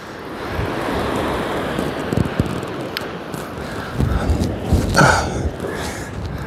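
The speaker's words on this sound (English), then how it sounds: "The wind's getting it." Strong wind buffets the microphone on a beach along the Holderness coast during shore fishing, a rough continuous roar with gusty swells and a few brief knocks, no talk.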